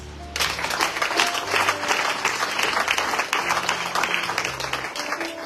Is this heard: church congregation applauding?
yes